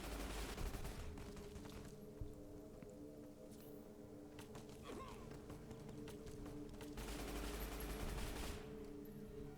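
Rapid SMG fire from the Fallout New Vegas video game crackles in dense, repeated bursts at steady volume throughout, with brief lulls between volleys.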